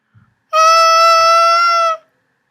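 A bright, buzzy bassoon reed crow held steadily for about a second and a half, loud and alone, with a faint tap just before it.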